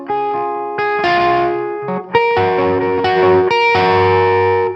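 Electric guitar with distortion and a chorus-like effect plays a rising triplet section, a loud run of sustained picked notes climbing in steps with no talking.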